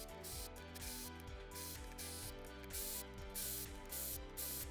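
A Milwaukee power tool loosens the bearing cap bolts on a Toyota 2ZZ engine during a teardown, giving a close, steady mechanical rattle with rapid repeating ratchet-like pulses.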